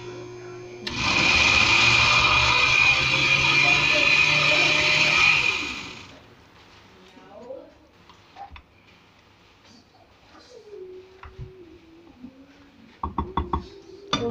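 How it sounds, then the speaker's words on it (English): A blender roars steadily for about five seconds, then cuts off, leaving quiet clinks and light handling noises afterward. "the mixer's not working, so I'm trying the blender."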